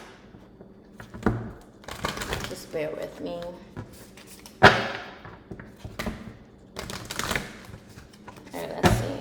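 Oracle cards are shuffled by hand in quick riffling bursts with papery slaps and taps, close up, while a person talks briefly between them.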